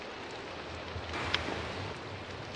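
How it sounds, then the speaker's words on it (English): Rain falls in Minecraft with the Pixelmon mod, a steady broadband hiss of moderate loudness that continues without a break, with a brief sharper patter partway through and no speech. "It's been raining for days."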